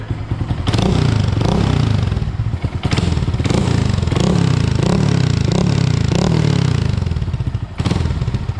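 A 2022 Honda Grom with a cheap aftermarket exhaust, baffle in, is revved hard up close in a series of repeated loud blips, each rising and falling over a rumbling idle.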